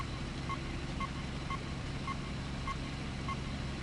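Repeated electronic beeps from a speed trap detector inside a truck cab in a trucking video game, about six short evenly spaced tones over a steady low engine rumble.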